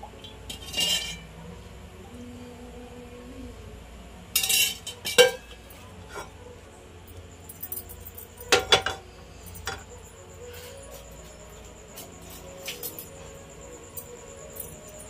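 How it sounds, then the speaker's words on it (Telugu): A pan set on a stove with oil added before making a chicken omelette: scattered metallic clinks and knocks of cookware, a few louder clanks, separated by quiet stretches. "స్టవ్ ఆన్ చేసుకొని ప్యాన్ పెట్టేసి కొంచెం ఆయిల్ వేసుకుందాం"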